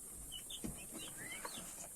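Soft, faint peeps and clucks of one-month-old Rhode Island Red chicks, several small chirpy calls scattered over a quiet background.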